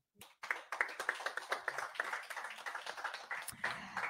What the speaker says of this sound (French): On peut applaudir, c'est énorme.